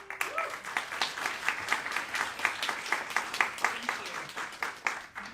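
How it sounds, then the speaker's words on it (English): An audience at a by-law panel event claps for a panel speaker, a steady round of applause from a moderate-sized crowd at medium distance, even and sustained throughout. "let's give a round of applause to Emily"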